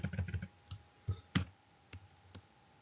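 Sparse keyboard typing: a quick burst of clicks, then a few isolated keystrokes, close and fairly quiet, with no talking.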